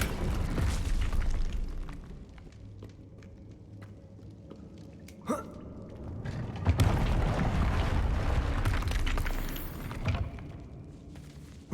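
Confringo fire-blast spell from Hogwarts Legacy, a game, bursting with a sharp crack near the middle and then a louder, rumbling blast that roars for several seconds over a steady low background hum.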